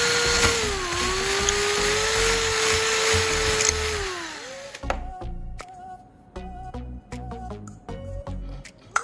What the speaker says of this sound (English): Next, I'll carefully drill a hole in the plastic cover.